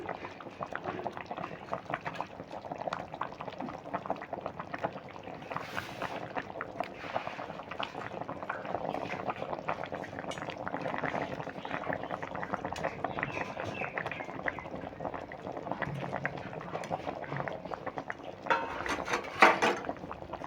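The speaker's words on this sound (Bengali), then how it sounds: "দেখো ঝোলটা ফুটছে" Curry gravy for a jackfruit dish with small-prawn fritters boils in a pan, giving a steady, continuous bubbling and popping that stays fairly soft and close throughout.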